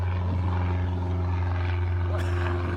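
Propeller airplane droning overhead near a busy small airport, a steady loud engine hum with strong low harmonics throughout, a faint voice murmuring beneath.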